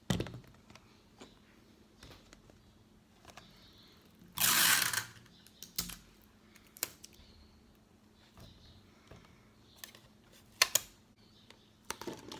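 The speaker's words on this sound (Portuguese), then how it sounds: "vou colocando durex aqui na junção das duas garrafas." Clear sticky tape is pulled off the roll and pressed onto the joint between two fitted plastic PET bottles for a toy, with a loud tearing burst near the middle and small close crackles and taps around it.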